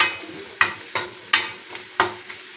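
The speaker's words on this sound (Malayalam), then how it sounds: "മുളക് പൊടി ഇട്ടിട്ട് നമുക്ക് അതും കൂടി ഇളക്കാം" A spoon stirs chilli powder and turmeric through sizzling oil in a frying pan for an eggplant stir-fry, giving about five distinct scraping strokes with a light sizzle between them.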